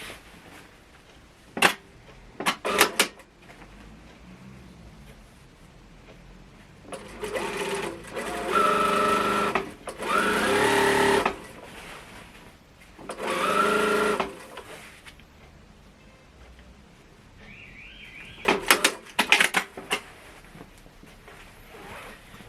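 A sewing machine stitches a sporty-seamed floor cushion and its zipper in several bursts of rapid whirring, near and clear, separated by pauses with small handling clicks.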